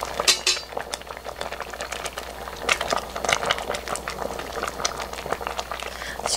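River snail soup (godi-tang, Gyeongsang style) boils in a 5-liter pot, giving a steady close bubbling and simmering with a few light clinks of a utensil against the pot.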